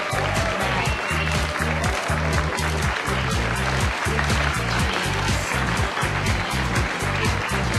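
Applause from an audience, loud and continuous, with a pulsing low beat of music running under it.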